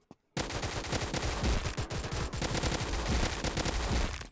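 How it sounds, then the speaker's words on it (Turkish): Rapid gunfire from a mobile shooter video game, pistol shots snapping in dense bursts with a constant loud battle din, after a brief quiet start. "Hamza'yı tabancayla vuracağım."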